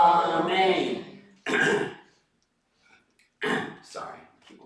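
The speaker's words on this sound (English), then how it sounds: "Clearing my throat" A few rough, raspy bursts of throat clearing, close and fairly loud, separated by short silences.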